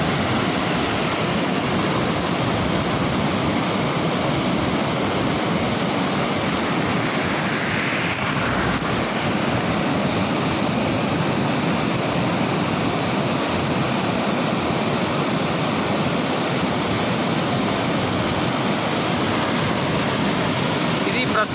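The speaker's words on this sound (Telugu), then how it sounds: "చాలా చాలా నీళ్ళు పోతున్నాయి రెండు రోజులు అవుతుంది ఫుల్ నీళ్ళు పోతా ఉన్నాయి" A large stream running full with heavy water flow, giving a loud, steady broadband rush throughout with some wind buffeting the microphone.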